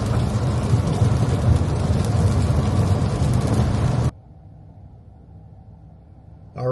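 Rain pelts a car on the road, a dense, loud drumming wash with a low engine rumble underneath that cuts off abruptly, leaving a quiet cabin hum.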